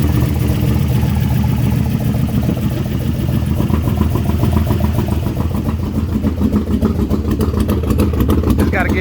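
An LS-swapped 1964 car idles with a lopey cam, its engine note rumbling unevenly and loudly at close range while people talk nearby throughout.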